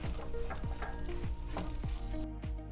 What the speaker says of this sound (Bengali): এবার আমি ড্রাই ফ্রুটসগুলোকে একটু ভেজে তুলে নেব হালকা করে